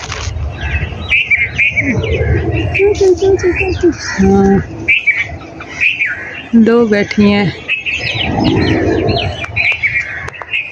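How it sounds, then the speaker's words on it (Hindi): A bulbul calls from a perch overhead in green village countryside. Its bright chirps and squawky notes repeat over a steady outdoor background while people talk nearby. "बुलबुल बोल रही है"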